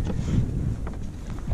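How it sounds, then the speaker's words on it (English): Wind gusting across open water around a fishing kayak off California, a steady low rumbling buffet of microphone wind noise that swells and fades throughout, with no voices. "The wind's changing right now. It's starting to pick up"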